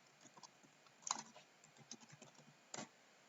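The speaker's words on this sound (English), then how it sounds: "I'm going to go ahead and start typing." Keys on a computer keyboard are tapped in a quick, uneven run of soft clicks close by, with a few sharper strokes standing out in an otherwise quiet room.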